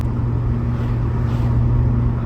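A hard-accelerating Audi S2 engine, a loud, steady low rumble with a strong droning growl that holds and builds slightly over a couple of seconds, close up and with no talk over it.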